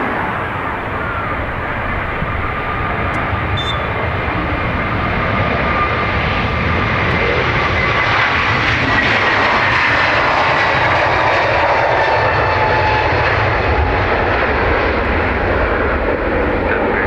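Airbus A321neo jet departing Dublin Airport, its engines a loud, continuous roar that holds steady and close throughout with no talking.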